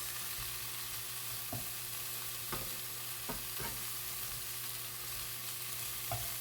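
Pork stew for kare-kare stirred in a pot, the spoon scraping in a few sparse strokes over a steady, low sizzling simmer with no talk.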